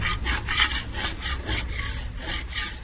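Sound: scraping residue off ceramic surface

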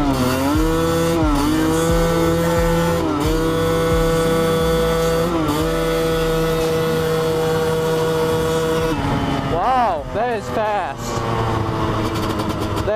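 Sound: Honda CR250 dirt bike engine while riding

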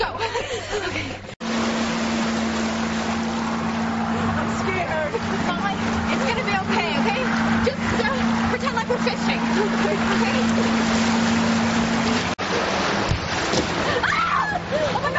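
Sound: boat motor running on water

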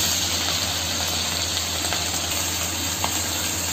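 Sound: ginger garlic paste frying in a pan

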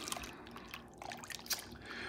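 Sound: stirring oyster stew made with whole milk

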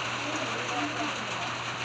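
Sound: heavy rain falling

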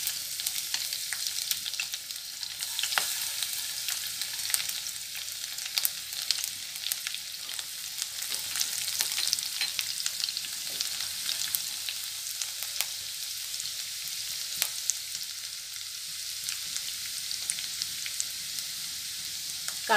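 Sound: green chili and chopped garlic frying in hot oil

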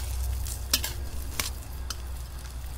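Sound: stir-frying leftover rice for fried rice in a pan

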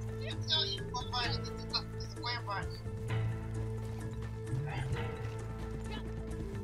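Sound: horse galloping and neighing in video game Red Dead Online

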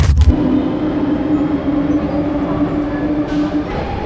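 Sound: inside a double-decker train in France

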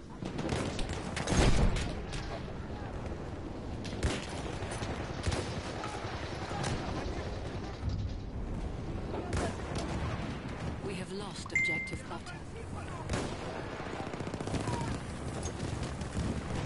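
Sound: gunfire in video game Battlefield 1

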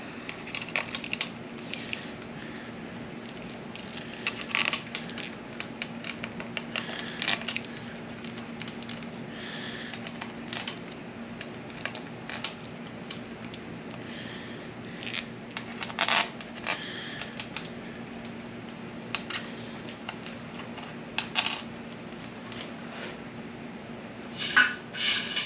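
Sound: metal pump bolts clinking while being handled

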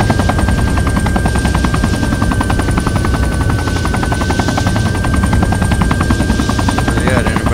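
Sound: helicopter flying overhead in Arma 3 video game

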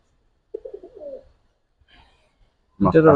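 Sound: pigeons cooing

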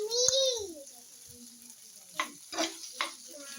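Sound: tocino frying in a pan

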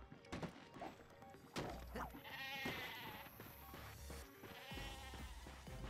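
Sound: goat bleating in a video game

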